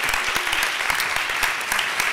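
Applause from an audience thanking speakers at a women's leadership and drug policy reform event, a dense steady clapping that carries on evenly for about two seconds with no voices over it.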